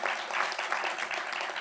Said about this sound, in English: So big round of applause for the work that all of them have done.